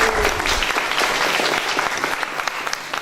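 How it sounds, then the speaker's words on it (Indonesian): A village head candidates' debate audience in Mergosari breaks into steady, dense clapping that holds for the full stretch, loud and close with no talk over it. "Tepuk tangan."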